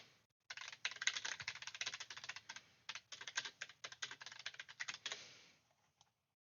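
Rapid, uneven clicking of fingers typing on a computer keyboard, close and fairly quiet, in bursts with short pauses, then stopping near the end.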